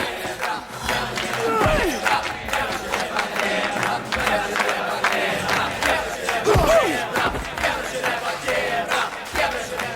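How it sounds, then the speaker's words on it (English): A crew cheers and shouts during a fistfight, a loud excited crowd of voices yelling continuously with scuffling and scattered claps. "Silverio was cheered on by his crew"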